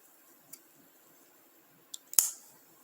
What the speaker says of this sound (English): I'm going to go ahead and snip these to get them out of my way.